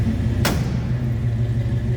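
A 1964 Chevrolet Chevelle Malibu SS with a 283 V8 idles with a steady low rumble, close by, and a single sharp thump lands early before the even idle carries on alone.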